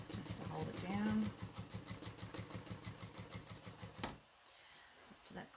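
A JACK A6F sewing machine hums and taps in a fast, even stitching rhythm during free-motion quilting, close and steady before stopping abruptly, with a voice briefly heard over it.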